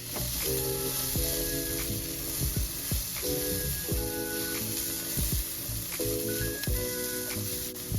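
Vegetables sizzling in a skillet, a continuous crackling fry with bursts of stirring clatter and rhythmic scraping over the hiss.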